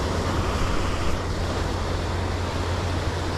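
Ocean waves breaking on the rocky shore at Acadia, a loud continuous surf roar with wind buffeting the microphone and no voices.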